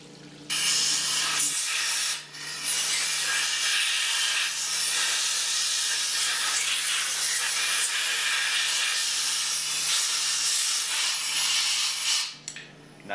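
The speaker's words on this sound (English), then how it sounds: "blow out any solvent that may be left in the crankcase" Compressed air blasts leftover solvent out of the crankcase of a Hypro diaphragm pump, a loud, steady hiss that runs without a break for about twelve seconds, with a low hum underneath, before it cuts off abruptly.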